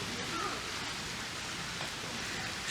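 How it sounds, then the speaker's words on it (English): Heavy rain pours at a Japanese shrine at night, a dense, even wash of steady hiss with no voices. "it's raining now. It's raining a lot."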